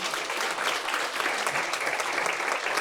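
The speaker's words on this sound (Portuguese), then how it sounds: "Dê uma salva de palmas ao Senhor." Church congregation applauding during a Brazilian Portuguese service, a dense, steady wash of clapping from many hands at moderate volume, with no break or voices standing out.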